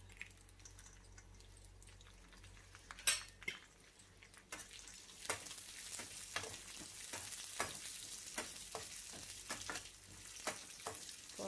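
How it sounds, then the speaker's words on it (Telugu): Coconut pieces, raisins, almonds and cashews fry in hot ghee, a steady crackling sizzle with scattered pops and spatters that swells after the first few seconds and carries on close and alone. "కొబ్బరి ముక్కలు, కిస్మిస్, బాదం పప్పు, జీడిపప్పు, డ్రై ఫ్రూట్స్ అన్నీ కలిపి వేయించుకోవాలండి."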